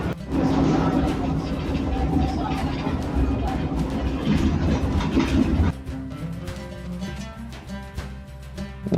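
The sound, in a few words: modern tram riding in Istanbul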